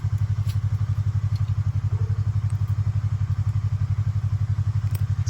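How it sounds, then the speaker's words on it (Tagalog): A motorcycle engine runs at a steady idle nearby, a loud, even low-pitched chugging pulse that continues throughout with faint clatter on top and no talking. "Pinaandar ni Papi yung motor niya"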